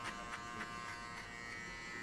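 An electric hair clipper buzzes continuously while shaving a head for a buzzcut, a close, steady electric hum with slight pulsing as the blades move through the hair.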